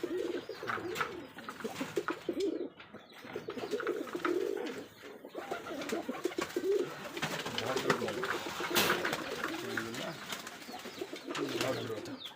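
Rajshahi Giribaz pigeons at a pigeon farm give low, continuous cooing in overlapping bursts, with other bird calls and an occasional wing flap mixed in, and a faint human voice in the background.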